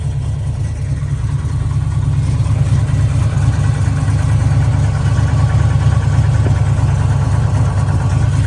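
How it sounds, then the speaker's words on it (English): A 1969 Chevrolet Nova engine runs at a steady idle, a deep continuous rumble recorded up close that stays loud and even throughout, with no voices. "Whoever did the engine did a great job."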